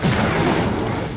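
A short, dense whoosh and rumble as the Incendio fire spell is cast in Hogwarts Legacy, a loud burst of roaring noise lasting about a second.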